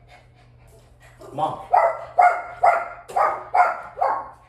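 A dog barks about six times in a steady, evenly spaced series, fairly close and moderately loud, with faint panting and a low background hum before the barks start; a person speaks briefly in the clip.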